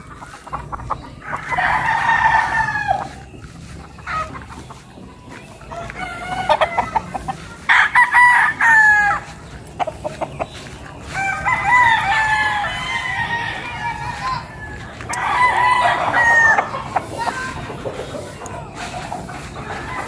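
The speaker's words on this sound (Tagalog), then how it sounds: "parang manok yun" Several chickens cluck in repeated bursts while roosters crow nearby at a gamefowl farm, the calls coming in waves with brief quieter gaps between them.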